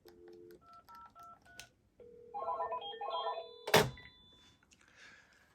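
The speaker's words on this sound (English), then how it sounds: "So I hung up after 1 ring from this line." A Panasonic landline phone dials out with a quick series of keypad tones, then gives a single short electronic ring burst before the call is hung up; close and fairly quiet, no talking.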